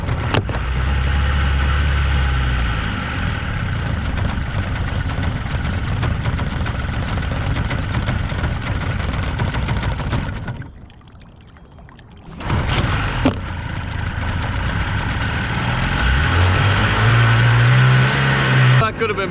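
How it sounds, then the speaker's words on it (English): A 29-year-old outboard motor on a small skiff runs loud and steady on the water, dropping out briefly mid-way before picking back up, with wind and water noise mixed in. "Motor's like 29 years old, so sometimes it doesn't like to start."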